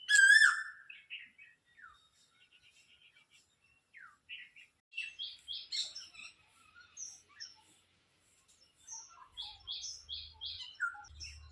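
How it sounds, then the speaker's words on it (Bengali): Varied springtime birds chirp and whistle, a close bright call opening and then many quick, overlapping tweets of differing pitch scattered at moderate distance, with a faint low rumble near the end. "কত রকম পাখির গলা শুনতে পাওয়া যাচ্ছে।"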